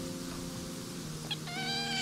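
A cat gives a couple of short, close meows, tonal and fairly quiet, with no talking over them.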